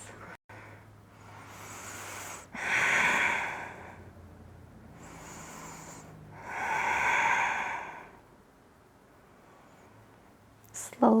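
Slow, deep yoga breaths held in bridge pose, two long audible exhales rising and fading near the mic, with quiet pauses between them and a soft click at the end.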